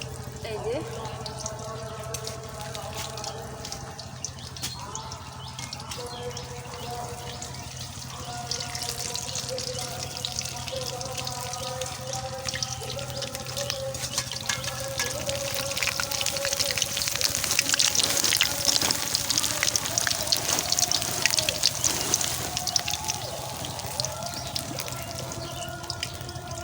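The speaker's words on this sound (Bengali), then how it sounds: "এখন আমি আস্তে আস্তে এগুলো ভেজে নিব।" Soybean chunks frying in a pan crackle and sizzle close by, the spattering growing louder and denser in the second half, with a voice talking intermittently over it.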